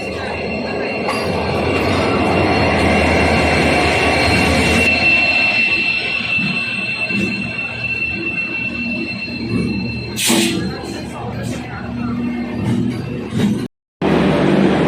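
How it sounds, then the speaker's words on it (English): A train rumbles loudly close by as it arrives at Ambala Cantt railway station, its wheels squealing and metal clanking as it rolls steadily along the track. "Train is arriving at Ambala railway station"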